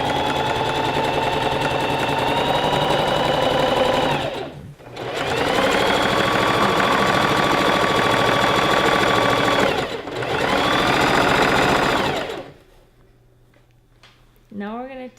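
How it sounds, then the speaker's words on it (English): A sewing machine runs a zigzag stitch across the tops of skirt panels for a maxi dress, three long steady loud bursts with brief pauses between, then the motor stops and quiet follows. "we're going to sew the tops of our skirt panels together"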